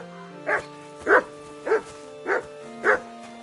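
A dog barks in a PS5 video game, five evenly spaced, clear woofs at a steady rhythm over a soft tonal background hum.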